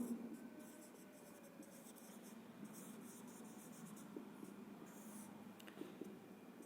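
Pen scratching steadily on paper or a board while a definition for a BSc Real Analysis maths lesson is written out by hand, a continuous faint rustle under quiet room noise, with no talking.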